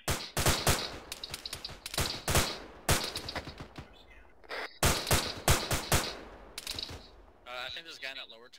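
Rifle and machine-gun fire in the military shooter Arma 3 rings out in rapid clusters of sharp, loud, close shots, with brief pauses between bursts and some quieter chirping near the end.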